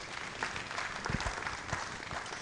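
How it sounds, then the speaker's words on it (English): Applause from a conference audience at an administrative professionals event, a steady wash of many hands clapping at moderate distance with no clear voices over it. "A round of applause for her, please."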